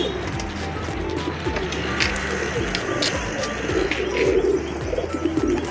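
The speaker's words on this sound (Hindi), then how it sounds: "ये मेरे कुछ कबूतर उड़ रहे हैं" Pet pigeons cooing as they fly outdoors near a home, soft low coos and scattered chirps repeating over steady background noise, with faint voices now and then.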